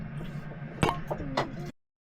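Two bright glass clinks of a drinking toast aboard a sailboat, close and crisp, ring out about half a second apart over a low background murmur before the sound cuts off.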